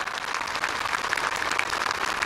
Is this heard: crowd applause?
yes